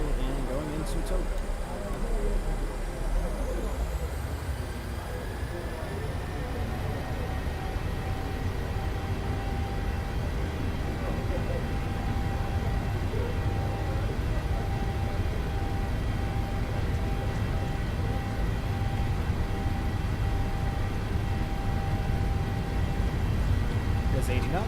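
A PMDG 737-800's engines spool up to forty percent thrust in Microsoft Flight Simulator, a steady loud roar with a rising whine that holds for the whole stretch, while someone talks over it.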